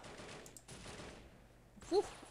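Sniper rifle shots in the World War 2 game Soldiers: Heroes of World War 2, two muffled bursts with a quiet gap, then a sharper crack near the end.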